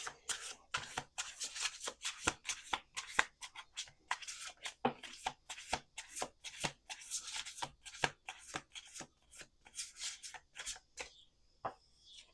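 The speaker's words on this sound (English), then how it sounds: "We're going to do 2 more shuffles." Playing cards riffle-shuffled by an illusionist in a run of quick, crisp bursts of fluttering card noise, repeated many times over several seconds, close and fairly quiet with no talking.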